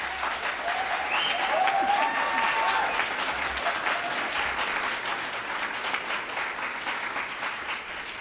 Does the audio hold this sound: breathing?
no